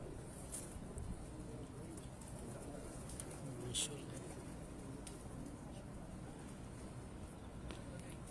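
Teddy pigeons cooing softly on a rooftop loft, low murmuring coos scattered through a faint outdoor background with occasional brief chirps and rustles.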